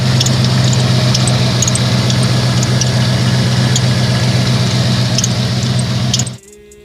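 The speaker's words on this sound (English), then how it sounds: "then you may have a worn out serpentine belt, also known as the drive belt" A Jeep engine with a worn serpentine belt runs at a steady idle, a loud continuous drone with a faint whine and ticking on top, before cutting out abruptly near the end.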